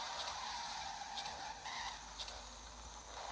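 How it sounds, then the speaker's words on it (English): Drifting car in the CarX Drift Racing video game, with a steady tire skid and engine noise sustained and fairly quiet throughout, with brief squeal peaks and no talk. "it's just gorgeous to drift"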